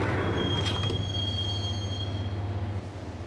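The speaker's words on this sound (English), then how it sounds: "the train doors had already shut behind me, and I was in for the ride" Inside a train in a video game, a steady low rumble of the railcar rolls on beneath a thin, high wheel squeal that rings for a few seconds, with a brief brighter clank early on.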